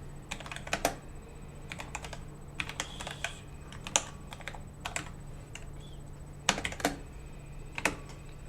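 Typing code on a computer keyboard: clusters of crisp key clicks in quick bursts separated by short pauses, close and fairly quiet over a low steady hum, with no talking.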